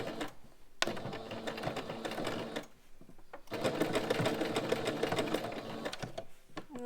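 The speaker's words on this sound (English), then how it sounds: "make sure you forward stitch and then back stitch a couple of times before you sew it in" A sewing machine stitches a homemade fabric face mask, forward and back stitching in a close, steady whir broken by one short pause, with no talking.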